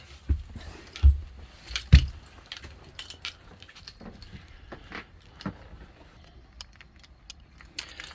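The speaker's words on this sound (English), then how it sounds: "In here are my 2 ignition keys." Two boat ignition keys on a gas-engined boat jangle in a few sharp bursts, close up, with soft clinks and handling noise between them and then quieter rustling.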